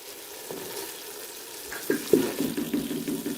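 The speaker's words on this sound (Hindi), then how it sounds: "अब इसके अंदर लेमन जूस ऐड करना है" Lemon juice splashes into a hot pan of cooking vegetable macaroni, setting off a burst of close sizzling and bubbling partway through that carries on after a quieter, low-level hiss.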